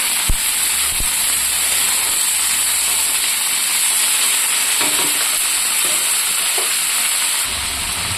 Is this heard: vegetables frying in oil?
yes